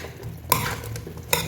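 A bottle gourd, potato and mutton curry stirred in a pan, with a soft sizzle and the scrape of a spoon. Two sharper clinks of metal on the pan stand out, close by, with no talk.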